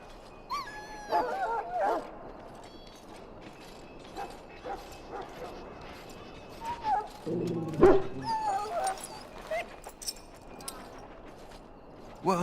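A dog in the video game Dragon Age: Origins yelps, whimpers and barks intermittently over a low background, with a louder cluster of sounds midway and soft game ambience throughout.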